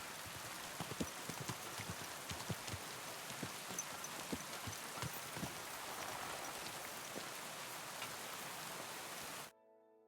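Horse hooves clop in the video game Kingdom Come Deliverance 2, a steady run of close hoofbeats over a dense, rain-like wash of ambient noise that cuts out abruptly near the end; no one speaks.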